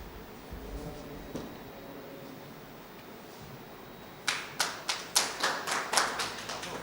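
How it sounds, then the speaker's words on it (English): Applause from an audience at a commemorative gathering honouring Maharaj Bodhchandra comes in as a handful of sharp, evenly spaced claps, close and distinct over low room noise. "Please give a round of applause."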